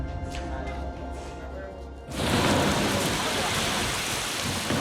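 Heavy rain in Tanzania starts abruptly partway through, a loud, dense, steady hiss of downpour on surfaces following a quieter opening with a voice speaking.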